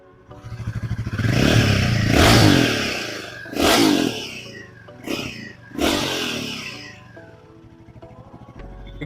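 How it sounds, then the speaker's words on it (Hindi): A Royal Enfield Himalayan test-ride motorcycle is revved in place, with four loud throttle blips rising and falling over a low idling thump, up close and without talk. "now we are raving this"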